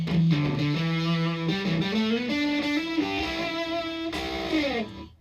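A loud, heavily distorted electric guitar through a Z.Vex Fuzz Factory pedal plays sustained notes that slide upward, thick and buzzing, then fade out at the end.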